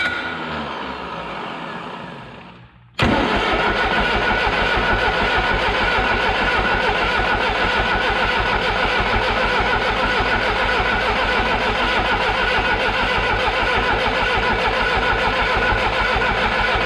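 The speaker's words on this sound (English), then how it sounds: "we're just gonna spin that engine over until we start seeing fuel coming out of here" A Miller Big 40 diesel welder's engine cranks briefly, then fires and settles into a loud, steady, close-up diesel run with a rapid knocking rhythm.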